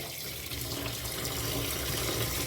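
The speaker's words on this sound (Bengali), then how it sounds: "চিকেনগুলো ভালো করে ধুয়ে নিই" Running water pours steadily from a tap over raw chicken being washed in a sink, a constant close splashing rush with no speech.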